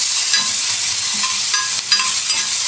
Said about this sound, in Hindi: जस्ट 1 सेकंड के लिए इसको हमने जस्ट सौते करना है